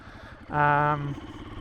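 Two-stroke motorcycle engine revving briefly during slow wheelie practice for pivot turns, a single loud harmonic rev swelling for about half a second over a steady lower engine drone.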